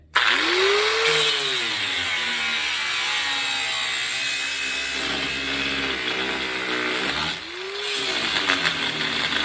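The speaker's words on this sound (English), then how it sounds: "I'm just going to cut straight across above it." A power tool cuts across rusted, rotted sheet metal near the frame-welded A-pillar of a 1961 Rambler, making a loud, continuous grinding whine whose pitch rises and falls as the blade bites and lets up.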